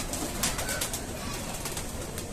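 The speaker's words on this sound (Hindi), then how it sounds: "देखिए आप, ये कबूतर एक साथ बाहर आते हैं" Pigeons coo softly from a small rooftop loft as the flock comes out together, low murmuring calls under a constant wash of flapping, shuffling and outdoor noise.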